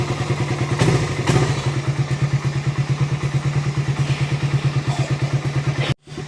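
Loud, rapid throbbing of a Suzuki Raider motorcycle engine with an open aftermarket exhaust pipe, close by. A couple of clanks come early and the sound cuts off abruptly near the end.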